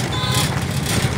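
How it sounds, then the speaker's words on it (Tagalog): A kolong-kolong tricycle's engine drones steadily and loudly on a rough road, a dense rattling rumble heard up close for a brief moment. "huni pa lang ng sasakyan."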